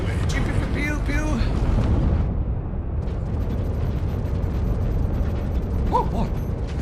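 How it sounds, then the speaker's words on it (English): Video game combat with explosions and gunfire: a steady, heavy rumble of blasts and mechanical clatter runs throughout, while voices speak now and then above the din. "Gary, somebody's shooting at us!"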